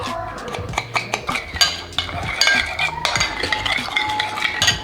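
A spoon clinks and scrapes briskly against a dish while balsamic sauce for meatballs is mixed, giving a quick, uneven run of close metallic taps and stirs.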